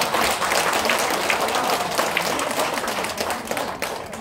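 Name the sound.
audience applause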